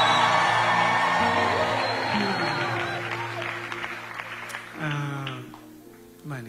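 A church congregation praising God with ululation and cheering, mixed with clapping. The crowd noise swells at first, then fades, with shouted voices rising over the clapping.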